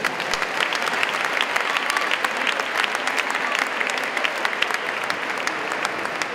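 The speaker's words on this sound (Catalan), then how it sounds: "Un fort aplaudiment, per favor." Loud, sustained applause from a crowd at a team presentation for the Maderas Sorlí Benicarló 2023/2024 season, steady dense clapping throughout.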